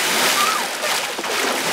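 Water in a cold outdoor swimming pool splashes and sloshes close by in a short burst. A voice is also faintly present.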